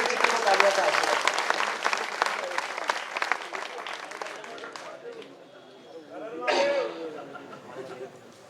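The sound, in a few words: audience applause for poet Vijay Vichitra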